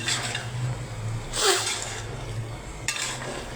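Food being stirred in a cooking pan, with two short scraping bursts of utensil against metal over a low steady background hum, fairly close.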